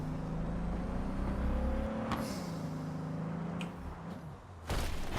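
In the Cyberpunk video game, a car engine with a supercharger hums and whines steadily, its pitch shifting as the car accelerates, with brief sharp thuds and a short drop before the engine noise returns.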